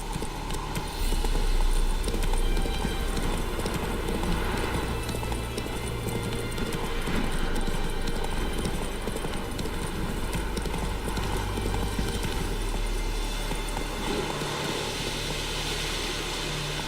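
Roach, a horse in a video game, gallops steadily with continuous rhythmic hoofbeats over a dense wash of game noise, loud and sustained throughout with no talk.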